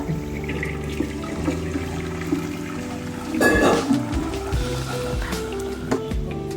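Cooked rice for a matar paneer biryani tipped into a sieve, water gushing and splashing through in a loud burst midway, with quieter running and trickling water before and after.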